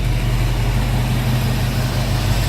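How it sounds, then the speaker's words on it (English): A 1934 Ford two-door sedan street rod with a 350 V8 idles steadily close by, a smooth low rumble with no talking. "And listen to this car purr."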